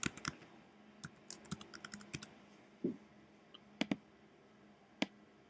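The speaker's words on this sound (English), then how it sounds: "we can go ahead and type it in." Soft typing on a computer keyboard while entering a city name, scattered quiet key taps and a few sharper clicks spread unevenly over a low background hum.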